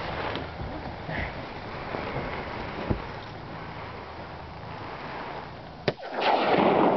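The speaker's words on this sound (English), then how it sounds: "The hell is he shooting?" Two sharp gunshots crack out at a distance, roughly three seconds apart, over a steady drone of boat engine and wind buffeting the microphone out on the water.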